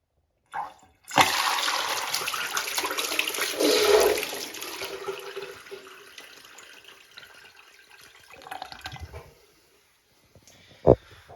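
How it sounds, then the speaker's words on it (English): A very high-mounted toilet tank with a full cistern flushes into a sort of open-rim bowl, giving a loud, forceful rush of water that tapers into trickling refill, followed by a sharp knock near the end. "this should be a full powerful flush"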